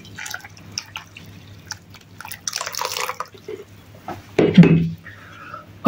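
About a litre of water is poured onto tea for kombucha, a brief close splash and trickle after a stretch of talk and light kitchen clatter.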